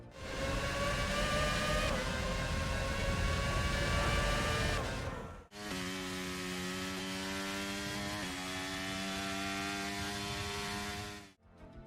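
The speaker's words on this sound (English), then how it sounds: "the V8 engines sound a tiny bit better than the piss we have to listen to today" V8 Formula 1 engines in a PS2 racing game scream at high revs, a steady harmonic whine with a brief drop and gear shift midway, loud and continuous.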